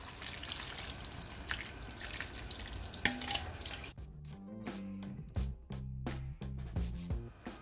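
Seasoned water is poured into a pot of turkey necks for a Jamaican curry, first as a steady pour, then a few seconds of scattered drips as the last of it runs off.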